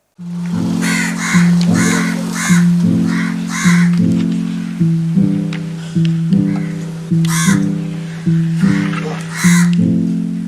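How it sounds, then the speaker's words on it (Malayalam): Several crows caw in loud, repeated bursts over a steady, rhythmic musical background. "എത്തിയാൽ കാക്കകൾ കൂട്ടമായി എത്തും"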